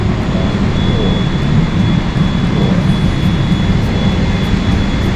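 Loud, steady jet engine roar with a broad low rumble fills the cabin of a Singapore Airlines business class flight from Jakarta to Singapore, constant throughout with no talking.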